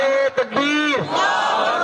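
A packed Milad-un-Nabi gathering bellows back a unison slogan response: a short, loud burst of many voices, briefly broken, then swelling into one long held shout.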